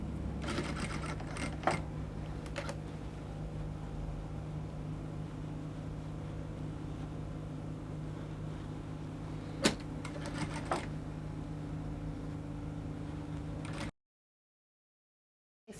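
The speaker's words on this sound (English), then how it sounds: "So I'll stitch the yoke to the neckline now." A sewing machine stitching a yoke onto a garment neckline, steady close motor whir with brief starts and pauses, running alone for about fourteen seconds before stopping.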